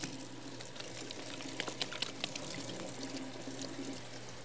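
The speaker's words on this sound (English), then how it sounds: "let's go back, wash our hands again" Tap water runs steadily from a kitchen faucet while hands are washed with soap, a continuous close hiss with a few small splashes and clicks.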